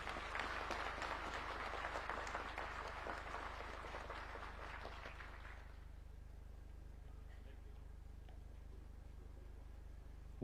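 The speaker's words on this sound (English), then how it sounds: "Let us give them a round of applause" A round of applause rises from the crowd at a National Defence University graduation ceremony, a broad wash of clapping that fades out after about six seconds, leaving a low steady hum.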